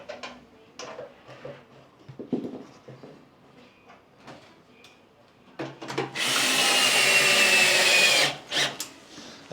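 A drill drives a screw into the rear roller of a Star Trac Pro 7600 treadmill during a belt replacement, giving one sustained, close whirring burst of about two seconds after scattered quiet clicks and handling noises.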